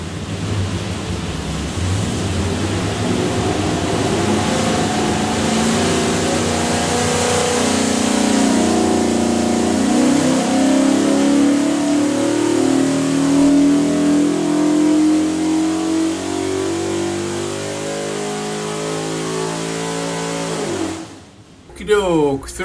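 A 363ci Ford V8 built as a drop-in crate engine for a '93 Mustang, with a front-end accessory drive and rear-sump oil pan, revs up steadily on a dyno pull, loud and sustained, then cuts off sharply near the end.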